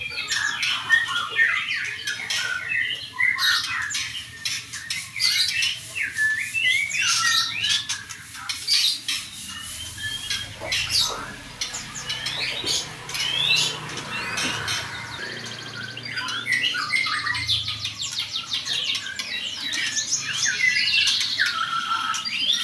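A caged songbird with a bandit-type ring sings continuously in a bird mastering session, pouring out dense, rapid chirps, squawks and trills that stay loud and close throughout with no pauses.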